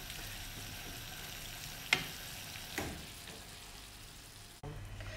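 Tomato sauce for sausage rigatoni simmers and cooks down in a pan, a soft, steady sizzle and bubble throughout, with a couple of faint utensil taps and a short cut near the end.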